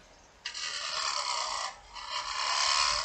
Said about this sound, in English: this is essentially a peeling cut using the side of the bevel right here